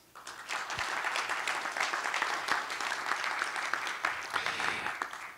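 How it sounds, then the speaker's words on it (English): Audience applause for three panelists after an introductory session of an academic discussion on religion and ecology, a steady dense wash of clapping from a crowd that holds at an even level throughout without any talk. "Please give a round of applause again to all three of our wonderful panelists here in this introductory"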